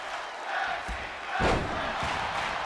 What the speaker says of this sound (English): This capacity crowd here in Alexa Bliss's hometown of Columbus, Ohio, showing their appreciations